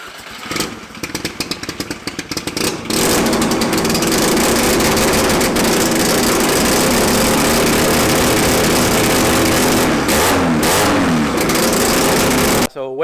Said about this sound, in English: just turn the car on and start tuning it